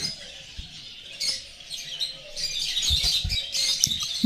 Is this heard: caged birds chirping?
yes